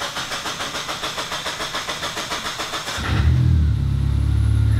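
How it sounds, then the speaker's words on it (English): A car engine in a $3000 turbo car project cranks with a steady rhythmic starter whir for about three seconds, then catches and settles into a loud, rough, close idle. "can you just crank that again?"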